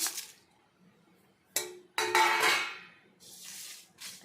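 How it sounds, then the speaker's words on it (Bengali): A metal wok is set down on a stove to fry dried red chillies, bay leaves and ginger for a homemade mango pickle. Sharp clanks and scrapes of metal come close by, followed by a longer burst of rattling and a brief hiss. "কড়াই বসিয়ে দিয়েছি গরম হয়ে গেছে মশলাটা"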